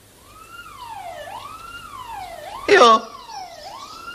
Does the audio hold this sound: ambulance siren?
yes